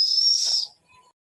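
A pressure cooker cooking dal on a stove lets out a sharp, steady hissing whistle for over half a second, then it cuts off into near silence and a short burst of hiss comes back at the end.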